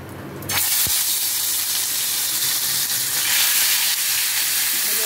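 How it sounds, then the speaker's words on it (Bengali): Fish pieces dropped gently into hot oil burst into a sudden loud hissing sizzle after a brief quieter moment, then fry steadily up close. "তেলটা গরম হয়ে গেছে, এখন আমি মাছগুলো আস্তে আস্তে ছেড়ে দেব।"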